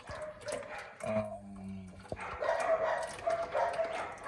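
A dog barks a few times at a distance in a Jamaican outdoor kitchen, short yips and a whimpering tone over a quiet background.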